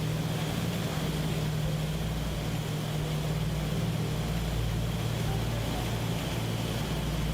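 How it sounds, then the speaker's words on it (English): Twin piston engines drone steadily, the Pratt & Whitney Double Wasp radials of a simulated DC-6 freighter, a constant loud low hum with no pauses or speech. "What do you guys think of the sound modeling of the double WASP engines?"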